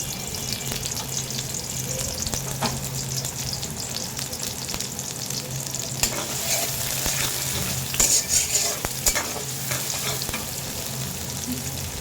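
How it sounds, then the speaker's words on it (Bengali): Onion and chili frying in hot oil while being stirred, a dense continuous sizzle with frequent spatula scrapes and a low steady hum underneath, loud and close, without any voices. "তৈল গরম হয়ে গেছে, দিয়ে দিলাম পেঁয়াজ মরিচ।"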